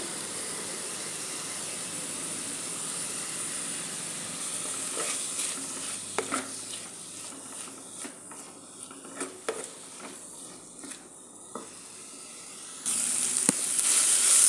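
Green chilli and curry leaves fry in a pan of onions for a Kerala fish curry, giving a steady sizzle with occasional stirring scrapes and clicks, no talk.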